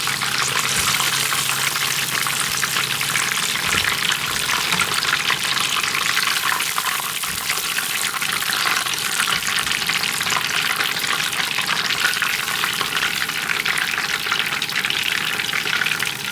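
Chicken katsu deep frying in a pot of oil, a loud, dense, steady sizzle and crackle that runs unbroken throughout, close up with no voices.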